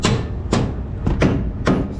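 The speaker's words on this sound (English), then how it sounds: "jack it up a little bit at a time, hammer it, jack it a little bit at a time, hammer it" Hammer blows driving a Hummer H3 front suspension part into place during a rebuild, four sharp metallic strikes spaced about half a second apart, close and loud, with no talking.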